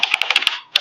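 A computer keyboard typing sound effect: a short run of quick, crisp key clicks, about eight taps in under a second, close and clean with nothing else behind it.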